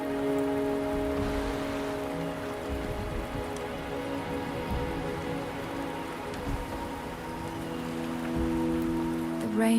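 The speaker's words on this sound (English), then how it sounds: "The rain is subsiding, and the sky will soon clear." Steady rain falls in the video game Wuthering Waves, a continuous patter on surfaces layered over sustained tonal music, with no talk.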